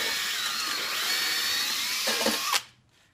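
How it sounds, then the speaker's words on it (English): A power drill with a 1.5-inch hole saw whines steadily as it cuts through ceramic blanket insulation for a propane forge, then winds down and stops abruptly near the end. "I'm just going to drill through there"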